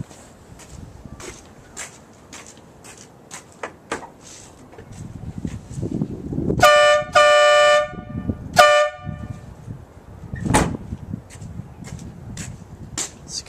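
Cheap aftermarket air horn on a 1999 Trans Am WS6, sounding two loud, blaring blasts, the first held for about two seconds and the second shorter, over faint background noise and footsteps.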